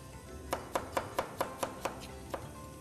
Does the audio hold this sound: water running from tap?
no